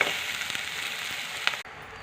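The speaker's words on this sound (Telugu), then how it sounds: "అల్లం వెల్లుల్లి పేస్ట్ కూడా వేసాను." Ginger garlic paste frying in a pan while making chicken fried rice: a steady, close hiss of sizzling oil with a few small spits and pops, and no talking.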